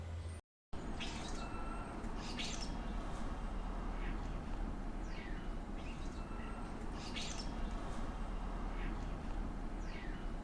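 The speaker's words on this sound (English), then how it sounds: "It's like every time I want to talk, the birds start again." Birds chirp and call in short repeated bursts over a steady low outdoor rumble, with no talking heard.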